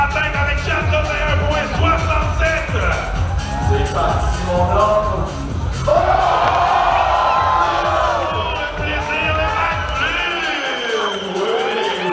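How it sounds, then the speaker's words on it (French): An outdoor crowd at a Montreal snowskate and ski festival cheers and whoops loudly for a skier, sustained shouting and cheering swelling near the middle and thinning toward the end. "On applaudit notre skieur"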